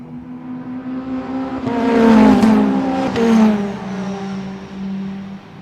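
Mitjet race cars racing at Riga, engines droning and revving as two cars pass close in quick succession, the roar rising and falling with each pass before settling into a steady engine hum.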